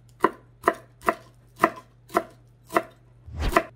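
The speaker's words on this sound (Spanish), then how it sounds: "vamos a trozar el cilantro" A knife chops fresh cilantro on a board in seven crisp, evenly spaced strokes, close and clear with no talking.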